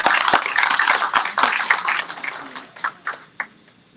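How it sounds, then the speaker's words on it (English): An audience claps for a workshop presentation, a burst of dense close applause that thins out into a few scattered final claps before fading. "give Simran remotely all the way in Tampa a round of applause for her presentation"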